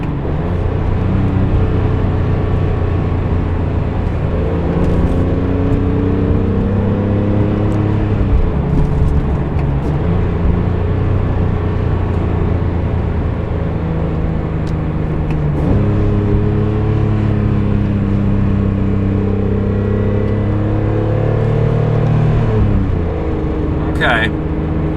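A BMW E46 M3 with an SMG gearbox and an aftermarket tune drives hard: a loud engine climbs in pitch through the revs, drops sharply at each shift and blips on downshifts, repeating over the run.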